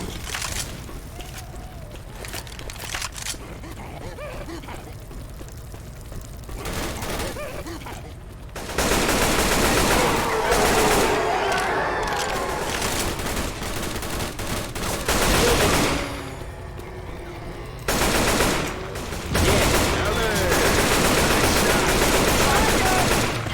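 Sustained gunfire from a Left 4 Dead 2 custom map finale, loud bursts of automatic shots broken by brief lulls, with a voice talking over the shooting.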